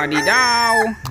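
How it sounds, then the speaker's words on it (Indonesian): A rooster crows once, a short, loud, close call rising then falling, followed by a quick spoken exclamation. "Kalau yang ini ada ayam berkokok."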